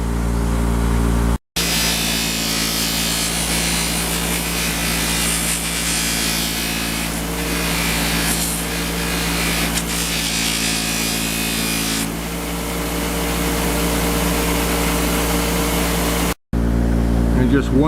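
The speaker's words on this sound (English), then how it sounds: "just by running these bolts on a buffing wheel for a minute or so, they'll come out looking brand new" A buffing wheel spins steadily as motorcycle brake rotor bolts are polished against it, a continuous loud whirring grind with slight rubbing variations, running unbroken for long stretches between two brief cuts.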